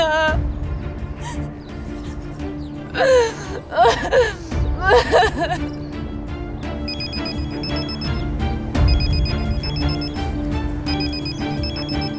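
Telephone ringing in a Turkish TV drama scene, a repeating electronic ring tone in regular bursts under background music, with voices and laughter briefly heard in the middle.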